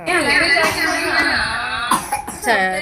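A small child coughs in a couple of sharp bursts amid voiced, whiny sounds, close and fairly loud, with a voice in the background.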